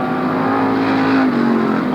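360 sprint car racing on a dirt track at Marysville, California, its engine screaming at high revs with a steady howling tone that dips slightly as it passes, loud and fairly close.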